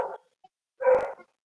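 A dog gives a short yelp and then a single louder bark a moment later, close and clear with silence between and around them.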